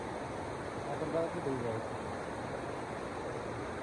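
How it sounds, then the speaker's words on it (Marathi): A village waterfall gives off a steady, broad rushing roar that fills the whole stretch at an even level, with a brief voice speaking faintly under it near the start. "इथे तुम्हाला धबधबा दाखवू परत"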